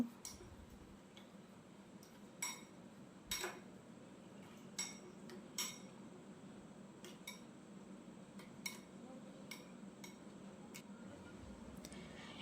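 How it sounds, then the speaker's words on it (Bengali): A metal spoon stirs a raw mango mixture with water in a bowl, making faint scattered clinks and taps against the dish every second or so over a quiet background hiss. "এবার এইগুলো খুব ভালো করে একটা চামচ দিয়ে মিক্সিং করে নেব।"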